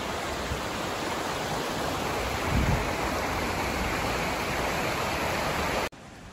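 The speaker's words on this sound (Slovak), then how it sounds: "Sprevádza nás celý čas nádherný potok." A lively mountain stream babbling steadily along a hiking trail from Liptovská Lúžna toward the Magurka settlement, a loud continuous close rush of water that fills the clip before dropping away abruptly near the end.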